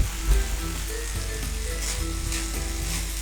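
Paneer and sprouts salad with lemon being stirred in a hot pan, a continuous close sizzle with soft scraping and light clinks of the spoon, steady throughout with no talking.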